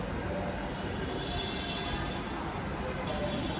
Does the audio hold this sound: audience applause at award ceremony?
no